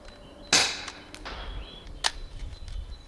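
An HDS 68 CO2-powered shotgun fires one sharp, loud crack near the start, followed by mechanical clacks and a second smaller snap, all close and without talk.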